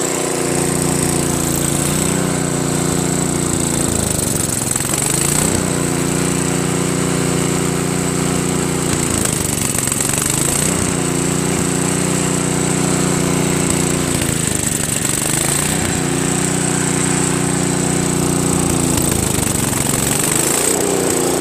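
A Craftsman 522 snow blower with a Tecumseh engine runs steadily and loudly up close, a continuous mechanical drone that surges and dips in a roughly five-second cycle as it hunts, with no talking over it.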